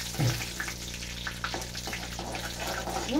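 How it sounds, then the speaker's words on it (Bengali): Whole garam masala and cumin seeds fry in hot oil as a tempering, giving a steady close sizzle with a few soft stirring scrapes and a faint low hum underneath. "ফোড়নে এটাকে একটু হালকা হালকা করে ভেজে নেবো।"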